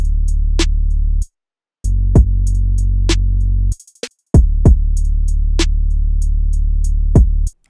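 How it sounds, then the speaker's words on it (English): A simple bass line from an R&B beat made in FL Studio plays as sustained deep notes in sections broken by short gaps, with snare and hi-hat hits cutting in above it, loud and alone without talk. "Then I added just a simple bass that sounds like this"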